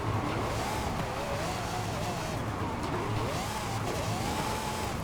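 A drift car in a racing video game revs hard through corners, held in first and second gear, as a loud continuous engine whine that rises and falls with tire squeal underneath.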